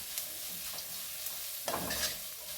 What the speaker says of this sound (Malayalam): ഇതൊന്ന് ചെറുതായി ഇളക്കി നമുക്കൊന്ന് എല്ലാം കൂടെ യോജിപ്പിക്കാം.